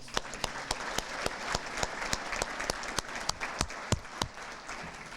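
Audience applause fills a Hamilton City Schools athletic hall of fame induction ceremony, a steady run of many hands clapping with sharp individual claps standing out, sustained for several seconds with no talk over it.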